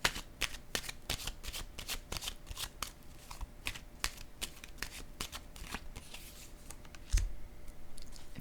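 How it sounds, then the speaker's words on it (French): Playing cards being handled and laid down on a surface, a quick series of soft, close snaps and flicks in an uneven rhythm, fairly quiet and with no talk. "Je vais déposer une autre carte ici."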